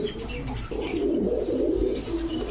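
Pigeons coo softly and repeatedly in a pigeon shop, low rolling calls close by, with no talking.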